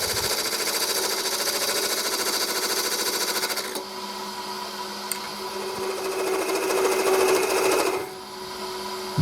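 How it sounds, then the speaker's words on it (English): Steady, buzzing whir of a wood lathe with a cutting tool trimming the ends of a spalted hazel blank, close and continuous, shifting in tone partway through as the cut changes. "Here I'm just trimming up the ends so we can make up the mortise"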